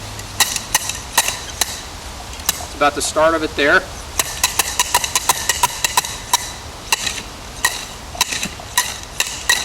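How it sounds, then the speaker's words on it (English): A metal probe is hammered down into soil at the end of a septic trench, giving sharp, regular metallic strikes that are loud and close, with someone speaking briefly between the blows. "we're going to take this probe and try to hammer down into the soil"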